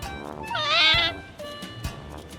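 An orange cat eating scraps of chicken and tuna gives one clear, rising and falling meow up close, with faint clicks and small knocks around it.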